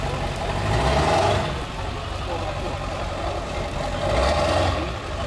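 A Ford F250 turbo diesel truck engine rumbles and swells twice in revving surges over a steady idle, with voices talking faintly in the background.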